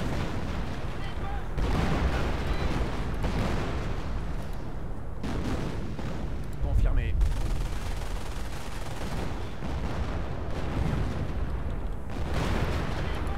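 Artillery and gunfire from the Company of Heroes video game, with repeated booming blasts and crackling shots in a continuous loud battle din, and voices talking faintly over it.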